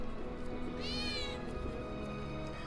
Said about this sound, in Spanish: Mira, un gato.